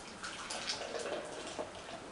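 Molson Ice beer pours from a big can into a mug, a soft splashing gurgle of liquid, faint and close, with a television murmuring in the background.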